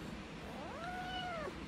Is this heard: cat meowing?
yes